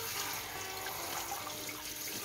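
Running tap water splashes steadily over perilla leaves being rinsed in a sink, a continuous close-up stream of water with no talking.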